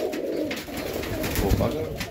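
A highflyer pigeon in Melbourne, Australia coos in soft, low, throaty pulses close by, over a faint outdoor background.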